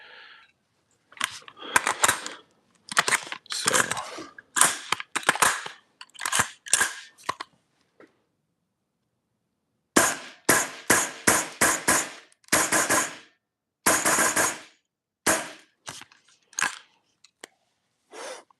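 An airsoft rifle fed from a worn Guarder 35-round MWS magazine fires a string of sharp, close, loud shots in quick bursts, pauses, then fires another rapid volley of snapping reports.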